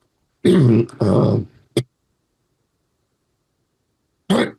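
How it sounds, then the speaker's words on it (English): Two harsh, loud coughs close to the microphone, followed by a brief catch of breath, then silence and another sharp cough at the end. "I can just edit out the coughs"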